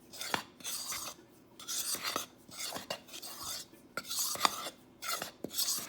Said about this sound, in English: So we're just gonna mix this all in together.